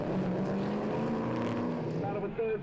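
Drift cars at full throttle during a round of the Australian Drifting GP, engines droning loud and steady throughout, with a commentator talking over the noise.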